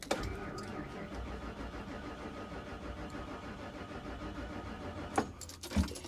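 A gasoline car engine cranks over steadily with a rhythmic starter churn for several seconds without catching, at a public auto auction, followed by a couple of sharp clicks and clunks.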